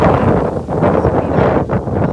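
Wind blows across an outdoor football pitch during an under-17 match in Sicily, a loud, continuous buffeting rush with gusty swells, close to the microphone.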